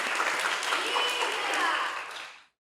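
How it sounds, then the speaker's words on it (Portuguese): Studio audience at a Brazilian podcast recording breaking into a burst of applause, dense clapping for about two seconds before it cuts off abruptly. "Uma salva de palmas!"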